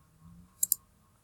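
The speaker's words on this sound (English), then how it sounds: "Sorry if you could hear the mouse clicks" Two quick, sharp computer mouse clicks in close succession, picked up by a laptop's built-in microphone over a faint low background hum.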